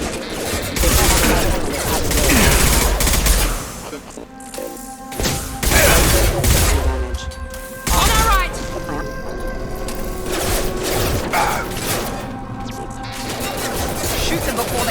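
Gunfire and combat in the video game Mass Effect 2, with heavy bursts of shooting, crashes and mechanical clatter alongside game music, loud and dense throughout with brief lulls.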